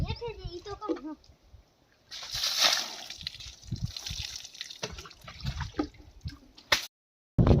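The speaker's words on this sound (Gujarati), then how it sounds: "હેઠે નાખ્યું પાણી." Water poured out onto the ground outdoors on a farm field, heard as a brief splashing, sloshing burst with trickling, mixed with nearby talk and rustling handling noises.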